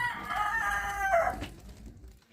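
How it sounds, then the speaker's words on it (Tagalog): A rooster crows once nearby, a drawn-out harmonic call that rises and then trails off, loud and clear with no talk over it. "Ayan ang manok."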